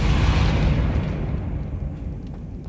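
The Depulso force spell in Hogwarts Legacy bursts out as one loud, close, booming blast that decays into a rumbling tail.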